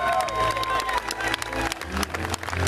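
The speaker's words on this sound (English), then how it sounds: "Let's give a round of applause." A crowd at a 95th birthday celebration gives a round of applause, steady close clapping with scattered cheers and voices mixed in.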